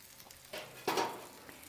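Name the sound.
bacon and pork tenderloin sizzling on a Cobb grill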